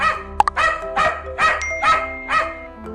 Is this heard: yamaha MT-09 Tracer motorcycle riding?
no